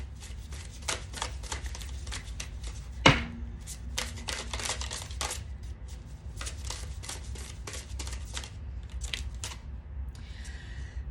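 Tarot cards are shuffled and drawn in a quiet room: repeated crisp riffling bursts and soft flicks of cardstock, with one sharp slap of a card set down, close and unvoiced.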